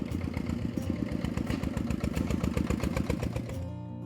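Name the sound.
tractor engine arriving with sacks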